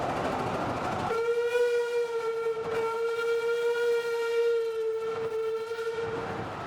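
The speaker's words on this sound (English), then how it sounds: "Even a little steam engine at speed is unforgettable." A miniature steam train's whistle sounds a long steady tone as it passes at speed, over the rumble and clatter of the train, with rhythmic wheel clicks throughout.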